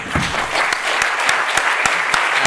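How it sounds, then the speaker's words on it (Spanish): Steady audience applause for a comic artist fills the room, dense and continuous with a few sharper individual claps standing out, and a brief voice near the start. "fuerte aplauso"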